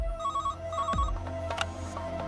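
A telephone rings indoors, its electronic bell tone repeating in short bursts over a low background hum, with no one talking.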